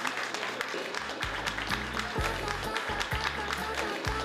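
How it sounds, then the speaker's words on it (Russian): Audience applause for a young girl performer at a stage show, steady clapping from a crowd mixed with a loud pulsing low musical beat and some voices. "И ваши аплодисменты нашей маленькой красавице Лиане Граблер"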